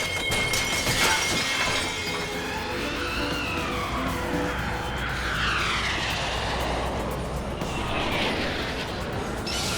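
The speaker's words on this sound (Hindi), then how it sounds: "कहीं ये फाइटर जेट्स की आवाज पर तो रिएक्ट नहीं कर रहा" Fighter jets roar overhead in a loud, continuous rushing sweep that rises and fades across the sky, with sharp, shattering high-pitched noise layered on top.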